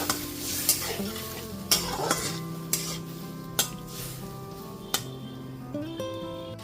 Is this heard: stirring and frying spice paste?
yes